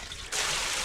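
Water is poured while cooking, starting suddenly after a brief quieter moment and then running as a steady, close, full gush with no talking.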